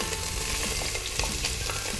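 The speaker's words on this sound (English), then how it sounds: "lots of sizzling" Onion and pepper frying in a pan for sweetcorn chowder sizzle loudly and steadily, with a few crackles and spatters of stirring throughout, and no one speaking.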